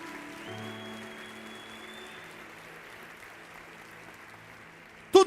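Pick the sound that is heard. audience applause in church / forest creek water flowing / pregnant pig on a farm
audience applause in church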